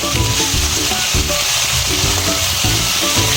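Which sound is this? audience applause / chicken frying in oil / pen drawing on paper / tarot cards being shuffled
chicken frying in oil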